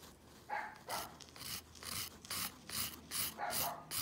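Quick, rhythmic rasping strokes of a 180-grit nail file across gel nails, about eight close, even passes with short pauses between them, with no talking.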